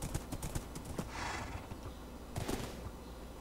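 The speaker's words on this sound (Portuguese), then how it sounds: "Será que se eu soltar meu cavalo aqui, o cavalo vai fugir?" A horse in the Minecraft video game clip-clops at moderate volume, an uneven run of hoof taps with a short pause midway, alone and without speech.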